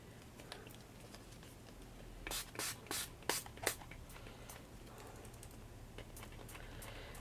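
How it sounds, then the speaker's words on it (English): Craft pumpkin pieces get a spray coating: a quick run of about five short aerosol bursts, quiet and close, set in a faint room background with scattered light taps. "just coat these with the sprays"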